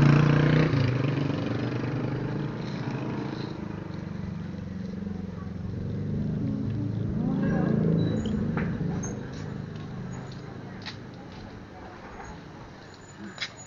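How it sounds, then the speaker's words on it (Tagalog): A motor tricycle's engine runs nearby on a road, heard from a motorcycle ride: a steady low drone that swells around the middle and fades toward the end, under wind rush and light voices. "Dali lang yung tricycle."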